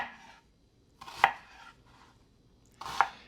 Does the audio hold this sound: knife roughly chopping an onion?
yes